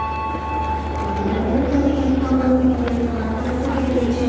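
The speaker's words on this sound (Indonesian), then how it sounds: "masuk di jalur 2 kereta Pasundan" A Pasundan train rolls into Purwosari station on track 2 with a low steady rumble and rising metallic squeal of wheels and brakes, loud and close, with faint station bustle behind.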